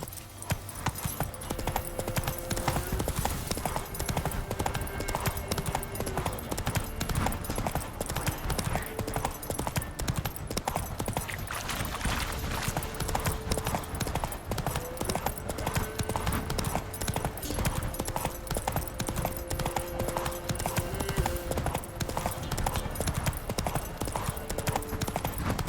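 Horse hooves galloping in The Witcher 3: Wild Hunt, a continuous fast rhythmic clip-clop over the ground, loud and close throughout with game ambience underneath.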